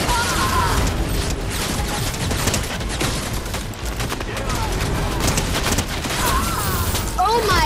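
Rapid bursts of gunfire from improvised weapons in the survival game Raft, firing steadily and loudly throughout, layered with mechanical clanks and with people talking over the shots.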